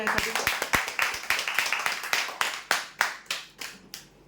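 Applause at a prize draw for a bed winner, a small group clapping in quick uneven bursts that thin out and slow toward the end, moderately close.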